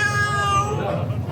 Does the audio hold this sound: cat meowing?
yes